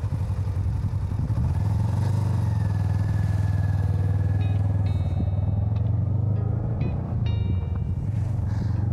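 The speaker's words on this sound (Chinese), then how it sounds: "那摩托车就是快啊！" A motorcycle rides off on a highway in Xinjiang, its steady, loud mid-range engine drone holding close throughout with some clatter and faint tonal whines layered on top, no speech.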